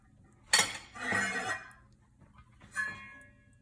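A metal lid goes onto a cooking pot of smothered turkey tenderloin with portabella mushrooms, giving a few clattering, ringing clanks that fade into a quiet kitchen.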